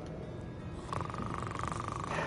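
A goblin snoring in the video game Hogwarts Legacy, a low rumbling rasp under steady background ambience, growing slightly louder partway through, with no talk.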